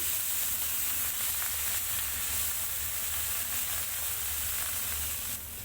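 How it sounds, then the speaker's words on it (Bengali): Green chillies and tomatoes sizzle and fry in a hot wok while being stirred, a steady, close, continuous hiss throughout. "কাঁচা লঙ্কাটি ভাজা হয়ে এলে টমেটোগুলো দিয়ে দিতে হবে ভালো করে নেড়ে নিতে হবে"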